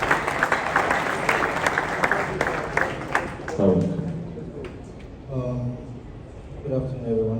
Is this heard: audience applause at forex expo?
yes